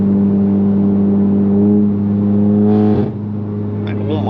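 A Volkswagen MK7 GTI with a catless downpipe and stage 2 crackle tune rumbles loudly and steadily up close, its exhaust drone holding a low tone before a brief surge and pop near the end.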